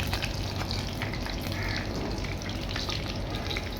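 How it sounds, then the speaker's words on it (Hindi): Second batch of cabbage roll pakoda deep-frying in hot oil: a dense, steady, close sizzle and crackle that runs unbroken throughout, with no talk. "जो दूसरा बैच है वो भी फ्राई कर लेंगे"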